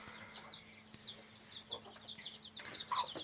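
Broody village hen sitting on eggs in a coop gives soft, quiet clucks, with thin high peeps scattered throughout and a faint background hum.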